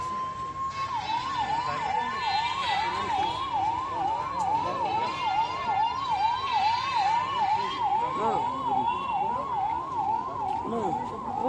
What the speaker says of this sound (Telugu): అంబులెన్స్